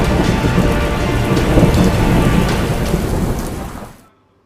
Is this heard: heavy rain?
yes